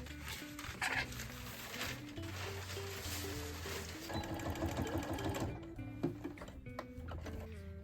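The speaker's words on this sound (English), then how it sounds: "So now we can continue with the sewing." A sewing machine stitches a jacket made from curtain fabric in a steady, continuous run, with brief pauses and clicks near the end, set against a constant tonal background.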